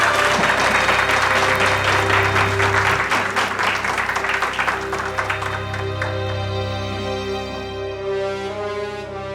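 Applause for a guest invited to the podium at a charity association event, loud clapping that fades gradually under a sustained musical score, with no speech.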